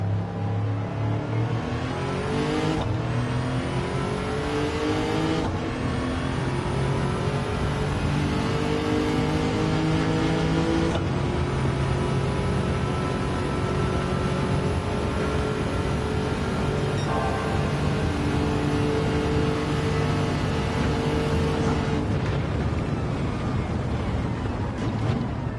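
A Tundra-swapped car in Gran Turismo 7 revs and accelerates through repeated gear changes, the engine tone climbing steadily and then dropping at each shift, loud and continuous with no talking.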